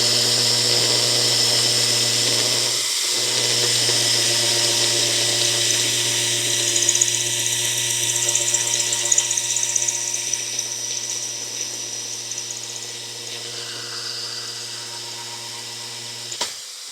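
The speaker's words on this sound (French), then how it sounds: "voyons un peu ce que donne le perçage dans un parpaing comme celui-ci" A Makita DHP485Z cordless hammer drill set to first speed bores into a cinder block, a steady high whine with gritty hammering rattle that holds for most of the stretch, briefly dips near the start and cuts off at the end.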